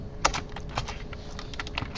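Keystrokes on a computer keyboard as code is typed during a programming lecture, a brisk irregular run of clicks with a louder tap near the start, close and clear with no talk.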